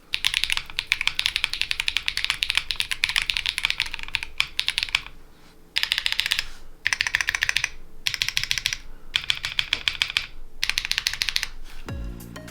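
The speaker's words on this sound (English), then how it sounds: "we got our PBT keycaps into the Monsgeek M1 with the Lavender Purples, and let's go ahead and see what they sound like." Rapid typing on a Monsgeek M1 mechanical keyboard with Akko Lavender Purple switches and PBT keycaps: dense, crisp clacking in bursts with brief pauses, close and loud, with no talking, ending in a low thump.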